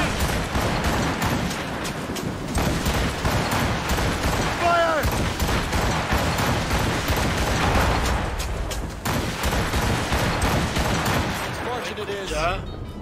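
Naval cannon fire in the Assassin's Creed Rogue sea battle: dense, continuous booming volleys and blasts roll without pause, loud and close, while voices shout over the din and mortar shots add to the barrage.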